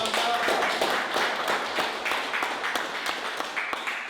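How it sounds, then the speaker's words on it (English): A community crowd in Vrygrond township, South Africa, claps in a round of applause: scattered, uneven hand claps, fairly faint and roomy, continuing for several seconds with no talk over them. "big round of applause"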